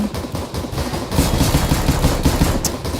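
Rapid automatic gunfire from the CS:GO video game rattles loud and continuous through the whole stretch, dense bursts of shots with no gaps.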